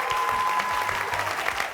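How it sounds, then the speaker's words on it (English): Audience applause in a high school quiz show studio during a semifinal, a steady wash of clapping from a crowd that holds at an even level for the whole moment. "Nice round of applause."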